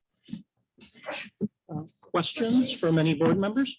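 A sneeze in a town council meeting room, one sharp burst near the start, followed by a voice asking the board for questions.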